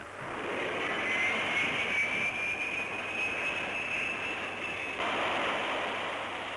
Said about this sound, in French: Comme des frondes géantes, les catapultes lancent les avions en plein ciel.